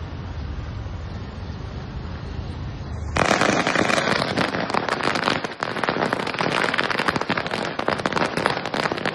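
Firecrackers set off in a town celebration in Khed, Ratnagiri, burst as a dense rapid crackle after a quieter opening; the string of pops then runs loud and continuous to the end.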